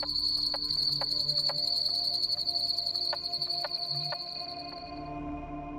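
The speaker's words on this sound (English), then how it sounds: "The carpenter frog is very distinctive because it has a call that just sounds like somebody hammering wood" Carpenter frog calling: sharp, widely spaced knocks like a hammer striking wood sound against a steady high insect trill, then fade toward the end.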